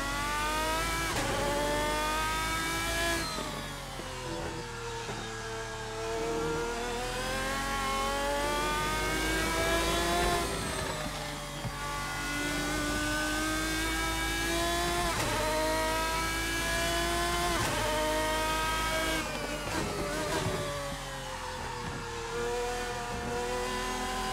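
A race car in the Assetto Corsa racing simulator revs hard and loud, its engine note climbing through the gears and then dropping sharply on repeated downshifts, with no talking.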